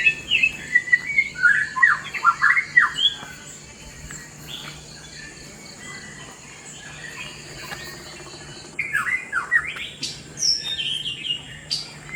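Forest birds chirp and trill in bright bursts in the semi-evergreen forest of Konkan, India, pausing and returning, over a steady background hum of insects.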